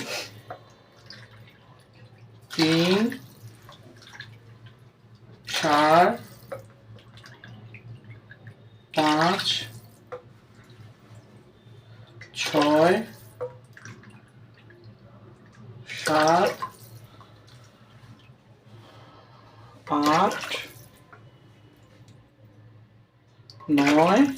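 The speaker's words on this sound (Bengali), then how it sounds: "আমি এখানে দশ কাপ জল দেবো" Water poured cup by cup into Gobindobhog rice for ten cups in all, each pour a short gurgling splash with rising pitch, repeating at steady intervals of a few seconds over a quiet background.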